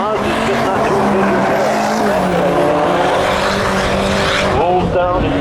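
Spectator drag race at a Memorial Day thrill show, a Subaru WRX on neon green wheels and a Mazda launching off the line, engines roaring loudly and continuously with rising revs and tire squeal, an announcer talking over the cars.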